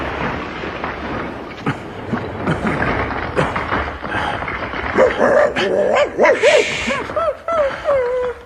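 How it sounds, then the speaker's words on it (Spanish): A dog barks and yips in quick bursts, then whimpers with rising whiny cries, close and fairly loud. "Deberías aprender a no ladrar."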